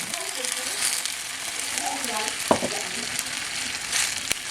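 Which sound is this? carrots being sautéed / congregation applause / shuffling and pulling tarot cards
carrots being sautéed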